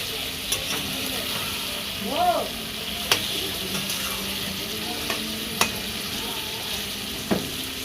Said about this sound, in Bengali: ভালো করে দেখো মশলাটা দিয়ে ভাজা হয়ে গিয়েছে।